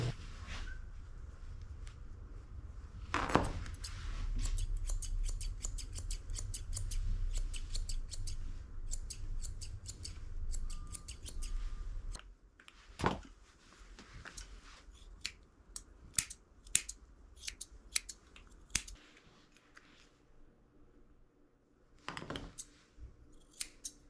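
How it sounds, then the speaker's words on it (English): Curved scissors trim the head fur of a Shih tzu-Poodle during grooming, giving crisp, close snipping clicks in quick runs and scattered single cuts over a quiet room background. "I'm using my curved scissors to make her head nice and round."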